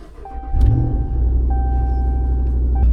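Ram Laramie pickup truck at a dealer auction: the starter cranks briefly, then the engine catches and settles into a loud, steady low rumbling idle up close.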